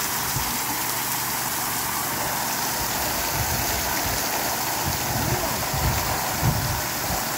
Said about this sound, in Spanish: Miren qué agua, qué agüita la que cae.